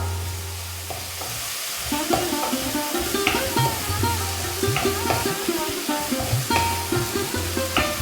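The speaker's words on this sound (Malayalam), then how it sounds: "തക്കാളിയും ചേർത്ത് നന്നായിട്ട് ഇളക്കി കൊടുക്കാം" Onion and chopped tomato stirred in a pan for a Kerala-style brinjal curry, a steady sizzle under repeated scraping spoon strokes that fall into an uneven rhythm, close and moderately loud, with no talk.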